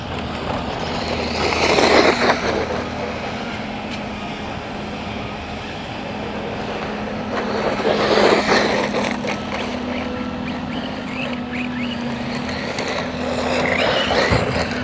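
Rlaarlo X12S RC car driving on gravel, a steady motor whine with crunching stone texture and louder bursts around throttle pushes, no talking.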